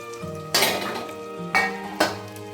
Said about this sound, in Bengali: এইবার আমি মাছগুলোকে দিয়ে দেব।